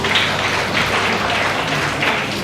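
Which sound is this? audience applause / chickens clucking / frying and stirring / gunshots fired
audience applause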